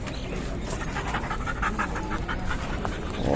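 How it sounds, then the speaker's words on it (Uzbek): A dog pants rapidly and steadily up close, quick rhythmic breaths continuing throughout. "Tarbiyalangan it ekan"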